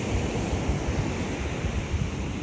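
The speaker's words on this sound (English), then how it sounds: "Right now you've got wave action, so I'm not taking any dip today." Steady roar of ocean surf breaking on an empty beach in Vietnam, a continuous broadband wash of waves with some wind, no voices.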